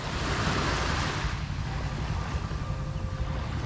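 Surf on Wonokerto beach in Pekalongan washes in steadily, a broad continuous roar of waves with wind buffeting the microphone throughout, loud and close with no talking.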